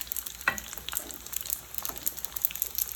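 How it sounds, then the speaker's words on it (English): Soft sizzling and popping of wontons frying in oil, fairly quiet, with an occasional sharper crackle and light clatter. "what I'm going to do while my wontons are over there frying"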